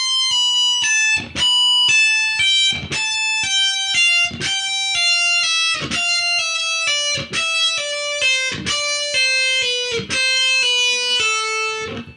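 Distorted electric guitar plays a slow descending metal lick of pull-offs, notes stepping steadily downward in short repeated groups, loud and alone with no talking.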